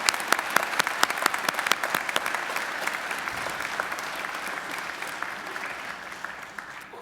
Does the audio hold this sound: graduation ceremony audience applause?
yes